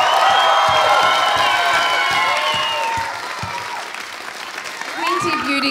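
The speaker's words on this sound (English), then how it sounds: "One more round of applause for our Golden Girls" Audience at a beauty pageant grand final breaks into loud applause with cheers and whoops, a dense clapping wash that dips midway and surges again near the end, with voices shouting amid the crowd.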